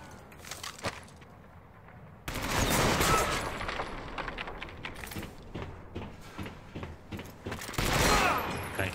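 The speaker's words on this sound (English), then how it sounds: "Come on, just let me shoot these guys" Gunfire in Medal of Honor: Vanguard as enemies are shot: a burst of loud close shots erupts, then scattered cracks and clattering follow before another heavy burst near the end, with no talking.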